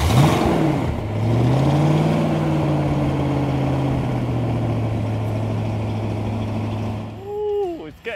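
A 502 big-block V8 in a muscle car at a Phoenix collector-car auction runs with a loud, steady low drone through most of the clip, a brief revving swell near the start and a sharper rev at the end.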